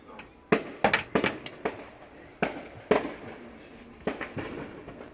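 Fourth of July fireworks bang and crackle in a string of sharp bursts, some close together, some spaced out, echoing at a moderate distance with no talking.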